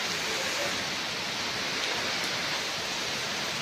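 Heavy Kalbaishakhi storm rain pours down in a dense, steady broadband roar that stays loud and unbroken throughout, with no voices over it.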